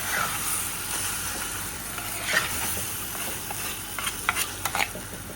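Leafy greens stir-frying in a home kitchen pan produce a steady soft sizzle, with a cluster of sharp spatula scrapes and taps near the end, close and fairly quiet.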